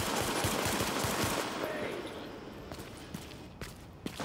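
Rapid automatic gunfire laying down suppressing fire in the shooter game Tom Clancy's The Division, a dense burst of fast shots that fades after a second and a half into scattered single cracks.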